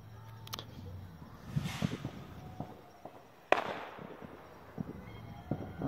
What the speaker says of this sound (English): Now you can hear all the fireworks in the background firing all over the place.